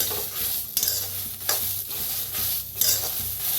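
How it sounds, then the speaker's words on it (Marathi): Ghevda beans dry-roasted in a kadhai without any oil. Close, rhythmic stirring strokes scrape and rustle about every second over a light, steady sizzle. "पहिलं भाजून घेऊया आपण बिन तेल बिल वापरता असंच भाजून घ्यायचं आहे"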